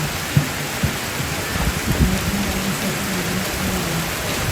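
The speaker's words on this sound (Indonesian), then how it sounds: "Hujan." Steady, heavy rain pours down outdoors during a funeral service at a traditional Toraja tongkonan house, a dense continuous wash with occasional louder thuds of drops, close and loud, with no talking.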